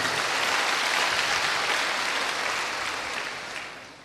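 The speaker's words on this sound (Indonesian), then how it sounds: "tepuk tangannya paling meriah buat Allah kita" A church congregation breaks into a thick wash of enthusiastic applause during a service, the clapping steady and full before gradually tapering off at the end.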